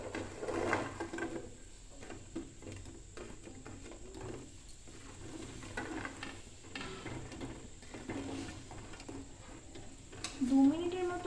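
Gulab jamun stirred in hot sugar syrup on the stove, with steady soft scraping and sloshing, a faint background hum and a brief louder clank near the end.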